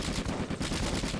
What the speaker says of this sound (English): There goes a grenade.